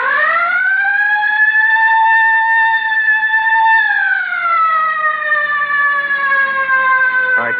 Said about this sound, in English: All right, hit the siren.